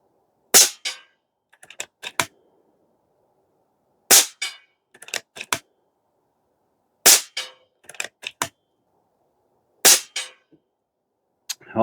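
Airmaks Krait Pro L .30 caliber air rifle firing FX Hybrid pellets outdoors, four sharp close shots spaced about three seconds apart, each followed by faint mechanical clicks of cycling the action, no talking.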